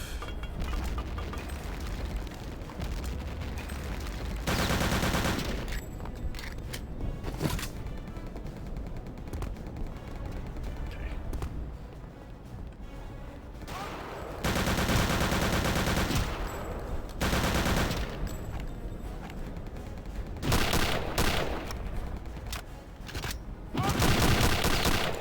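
Machine gun fire in the shooter game Return to Castle Wolfenstein: loud, continuous automatic bursts mixed with explosive booms, running almost without pause over the whole stretch with a few short breaks.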